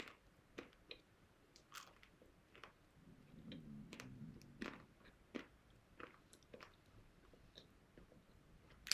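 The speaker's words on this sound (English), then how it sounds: "Can you all hear me chewing?" Someone chews food close to the mic in a quiet indoor room, with a run of soft crunchy bites and wet mastication clicks at an irregular pace over several seconds, and no talking.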